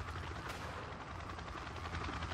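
Chinook transport helicopter in the Ravenfield video game, a dense continuous rotor and engine roar with rapid pulsing chop, heard close and loud with possible gunfire mixed in.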